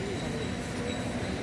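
An electric locomotive hauls a heavy train, giving a dense, steady rumbling roar with a faint metallic squeal of wheels, loud and close over the whole short stretch.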